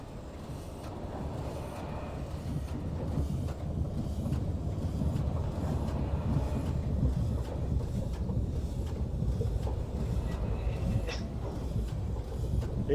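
A vehicle in the Myst game labors up a small hill, giving off a steady, heavy mechanical rumble with a windy, droning texture that holds at an even loudness throughout.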